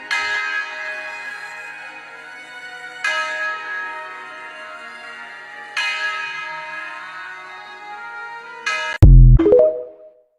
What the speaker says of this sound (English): Y'all see they out here ringing these old bells?